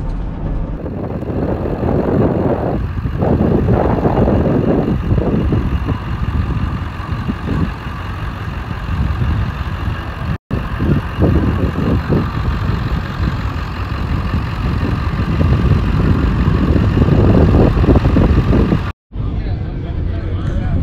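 A Honda CRX with a popping passenger-side axle driven around and shifted through first and second gears, a continuous rough engine rumble close by, with speech throughout and two abrupt cuts.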